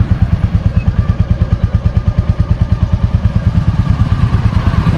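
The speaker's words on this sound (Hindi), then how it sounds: "हम जा रहे हैं बाइक का साइलेंसर चेंज करवाने के लिए। साउंड महसूस करो।" Royal Enfield Bullet motorcycle with its stock silencer exhaust, a loud, steady single-cylinder thump pulsing evenly throughout at idle, close by, with no talk over it.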